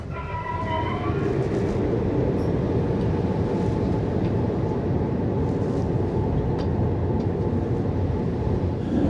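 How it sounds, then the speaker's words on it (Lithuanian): A passenger train on a journey from Lithuania toward Budapest pulls away and runs with a loud, steady rumble and clatter of wheels on rails, heard close from on board, with a faint whine at the start and no voices. "Traukinys labai greitai išvažiavo"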